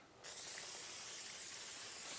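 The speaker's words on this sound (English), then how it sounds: "So I'm just going to spray it on here and start removing this rust." A can of 556 lubricant, the Japanese counterpart of WD-40, hisses in one sustained close spray onto a rusty tablesaw top, starting abruptly after a brief quiet moment.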